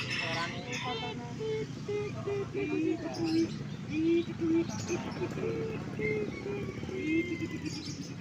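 Birds for sale at the Splendid bird market in Malang chirp and coo over a busy crowd, with people talking throughout and a few distant vehicle sounds.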